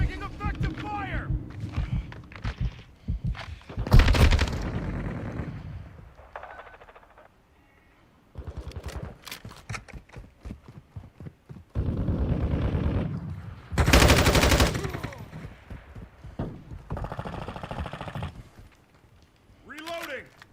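Gunfire in the video game Call of Duty Modern Warfare II comes in loud bursts of automatic fire separated by short gaps, with voiced callouts spoken between and over the shooting.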